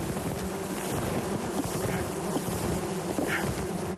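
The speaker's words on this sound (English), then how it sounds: "Bird's box is buzzing with a few thousand bees" A few thousand swarming bees buzz inside a wooden hive box on a street, a dense, steady hum that fills the whole stretch close up with no pauses.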